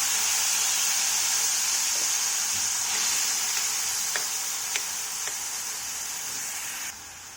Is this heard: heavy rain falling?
no